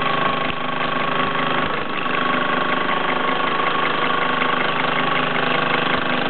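Blue Mamod SW1 steam wagon driving a workshop of 1950s tools through Meccano pulleys and belts, giving a steady, continuous mechanical chugging and whirring hum at close range with no talk.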